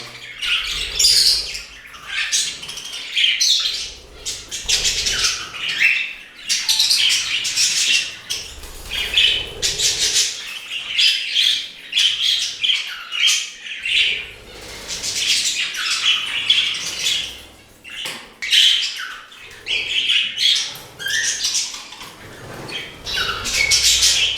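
Budgerigars and finches in an indoor bird room chirp, squawk and chatter continuously in overlapping bursts, with occasional rustling or wing movement throughout.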